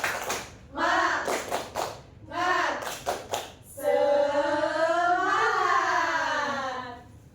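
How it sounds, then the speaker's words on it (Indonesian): A fifth-grade class performs a rhythmic spirit clap, with short patterned bursts of clapping from many hands and children's voices chanting along, then a longer sustained group shout to finish. "Oke, tepuk semangat."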